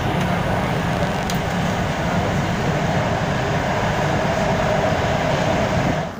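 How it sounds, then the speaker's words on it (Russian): An open-air metro train in Kuala Lumpur rolls steadily, giving a continuous, fairly loud rumble and hum of wheels and motors, heard from aboard with no talk, easing off at the very end. "Открытое метро — это счастье."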